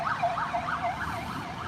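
A yellow ambulance siren wails through New York City streets, a loud, close, rising and falling warble repeating several times in quick cycles with traffic underneath.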